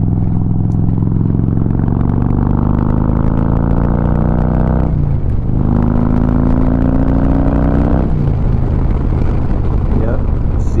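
A 2007 Harley-Davidson Road King motorcycle revs up at about half throttle, its loud, close engine note rising in pitch through two pulls, with a brief dip between and a settle near the end.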